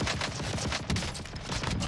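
EX1 gunfire in Call of Duty Warzone rattles off as a rapid, continuous stream of close, loud shots with no pauses.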